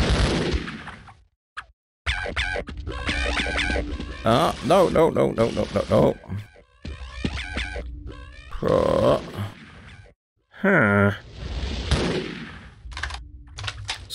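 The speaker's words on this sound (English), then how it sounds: "Stop wasting bullets." Gunfire in the PC video game Half-Life comes in rapid bursts and single shots, loud and up close, with a player's voice talking and exclaiming between and over the shots.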